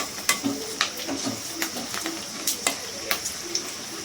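Salted dried chillies fry in a pan with a continuous sizzle, and a spoon stirs and scrapes them in sharp, irregular clicks and taps close by.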